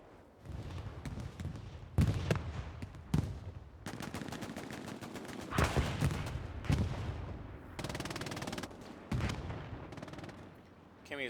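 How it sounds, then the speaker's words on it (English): Bombing run in the World War II shooter Hell Let Loose on the D-Day map, with heavy booming blasts and bursts of rapid gunfire in repeated waves, loud and chaotic, with faint voices now and then. "Bombing run coming in from the defending side."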